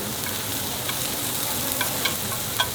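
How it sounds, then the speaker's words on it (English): Onions and garlic sizzle steadily in a hot pan for Vietnamese banh xeo, a continuous close frying hiss with a few light clinks of a utensil stirring. "It's just something about onions and garlic."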